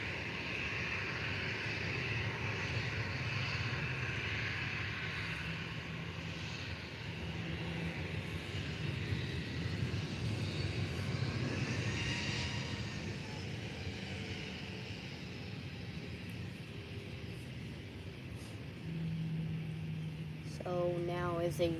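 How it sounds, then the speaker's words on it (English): A Jet2 Airbus A330 from Manchester taxis at Faro Airport, its engines a steady, broad roar that swells slightly midway and holds throughout, with a brief chirping sound near the end. "So now is a Jet2 taxiing."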